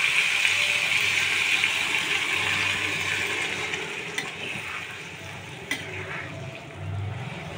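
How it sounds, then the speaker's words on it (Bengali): Water is added to a pan of mushroom curry and stirred: a steady bubbling sizzle and hiss throughout, with soft scraping of the spoon and a few light clinks, moderately close and with no talk. "কষানো হয়ে গেছে, এবার একটু জল দিচ্ছি।"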